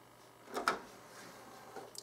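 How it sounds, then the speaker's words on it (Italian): A DVD recorder's disc tray slides open: a faint, close mechanical clunk and whir near the start, followed by quiet small clicks in an otherwise hushed room. "Allora, apro il cassetto"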